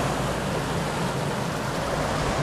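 Water pours out of a small hydro dam's turbine outlet and runs on into a stream in Austria, a steady, close rushing wash that fills the whole stretch without pause or talk.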